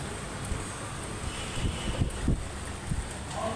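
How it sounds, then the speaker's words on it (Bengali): Heavy rain and gusty wind beat on a tin roof during a storm, a dense, steady rushing hiss with occasional low thuds, with no one talking. "বাতাসের শব্দ আর বৃষ্টির শব্দ।"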